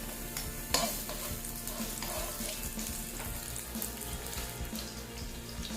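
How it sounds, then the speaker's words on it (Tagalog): Garlic hits hot cooking oil in a pan while making chicken feet in tomato sauce, giving a steady sizzle with stirring scrapes and clatter, close up and without speech. "Medyo mainit na po ang ating oil. Nang lalagay natin ay garlic."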